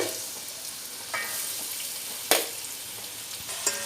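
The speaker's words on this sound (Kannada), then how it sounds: "ಸೊ ಇತ್ತೆ ಫಸ್ಟ್ ಆನಿಯನ್ ಪಾಡೊಂದುಲ್ಲ ಫ್ರೈಕ್" Onions frying in oil in a pan for Mangalore-style chicken dum biryani: a low, even sizzle with a few sharp spoon clicks and scrapes against the pan, close and quiet, with no speech.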